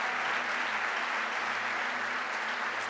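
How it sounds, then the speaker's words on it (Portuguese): A church congregation applauds the baptism candidates, a dense, steady wash of clapping from many hands that holds evenly throughout with no voices above it. "a gente pode dar uma salva de palmas para todos os nossos batizandos?"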